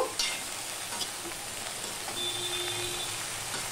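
Pumpkin greens with salt cook in a frying pan, a continuous soft sizzle under occasional spatula scrapes and stirring clatter, close and moderately quiet, with no talking.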